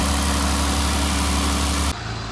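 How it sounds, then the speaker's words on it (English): A Jeep Wrangler JL Rubicon engine runs at a steady, loud idle with a low rumble, heard close up before it cuts off abruptly near the end. "Started the engine."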